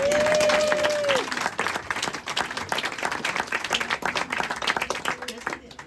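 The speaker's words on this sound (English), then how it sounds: "Please put your hands together for the honest cheat, Alan Leeds" A comedy-club audience breaks into sustained, dense applause for comedian Alan Leeds. A brief voice trails off at the start, then loud clapping fills the room and continues steadily throughout.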